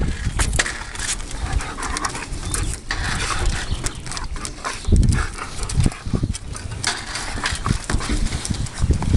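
Loud, rapid panting from a dog close by, rhythmic huffing breaths mixed with shuffling and scuffing noises throughout.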